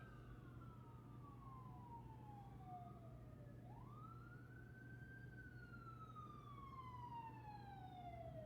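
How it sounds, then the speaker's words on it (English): A distant emergency vehicle siren wails in long rising and falling sweeps, faint but continuous over a low steady traffic hum. "You hear that siren?"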